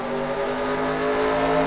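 A stock car accelerates off the start of a 25-lap race at Hamburg, its engine a loud, steady, close drone that swells slightly as it pulls away, with no talk over it.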